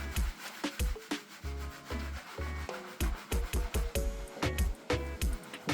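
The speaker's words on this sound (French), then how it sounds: "je passe bien le shampoing partout" Close, rhythmic wet rubbing and scrubbing as shampoo is worked through damp hair, a series of quick repeated strokes with short pauses.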